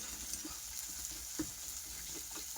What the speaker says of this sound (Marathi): तर हे सगळं चांगलं असं भाजून घ्यायचं परतून.